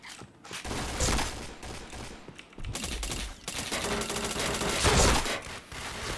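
Rapid bursts of automatic gunfire and scattered single shots ring out continuously in a shooter video game, dense and loud with brief lulls between volleys.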